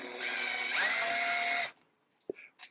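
A handheld power drive tool attached to a lathe handle spins up when the trigger is pulled, a loud steady whine that rises in pitch, runs about a second and a half, then stops abruptly, followed by a couple of faint clicks.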